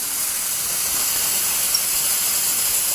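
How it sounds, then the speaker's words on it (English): Steady, loud hiss of steam escaping under pressure from a La Pavoni Europiccola espresso machine, continuous and close, with no speech. "let the steam out"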